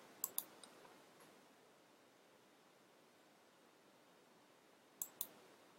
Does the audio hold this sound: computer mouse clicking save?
yes